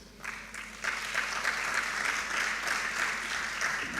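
An audience claps steadily as schools are introduced at a national communications conference, a dense, moderately loud round of applause that swells after a brief start and holds to the end.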